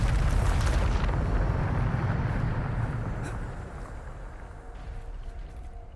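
A loud, booming Bombarda spell blast from the Hogwarts Legacy video game, a broad roaring explosion that starts at full force and slowly decays into a rumbling tail over several seconds.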